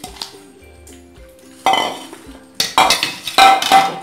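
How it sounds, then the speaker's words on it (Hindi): Spice marinade is added to chicken in a bowl by hand, with a few sharp clinks and clatters of a utensil against a dish, in short loud bursts separated by quieter handling noise. "अब इसको मैं चिकन में डाल दूंगी।"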